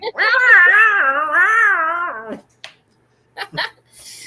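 A human voice imitates a screaming cat with a long, wavering, high-pitched yowl lasting about two seconds, followed by quieter breaths and a short sound.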